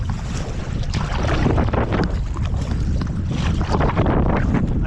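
A kayak being paddled on water, with rough splashes and sloshing strokes mixed into loud, gusty wind buffeting close by, no talking.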